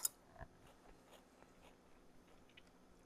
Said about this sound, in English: the crust has that crunch that you want